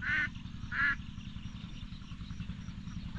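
A flock of ducks out in a field as they are herded, with two loud bursts of quacking near the start and another at the end, over a steady low background rumble.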